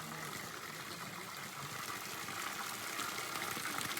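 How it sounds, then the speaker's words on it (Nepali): Water poured as a puja offering at a temple in Bhojpur, a continuous soft splashing and trickling stream, quiet and steady with no voices over it. "पानी चढाउनु गएर पानी चढाउँदै थिएँ"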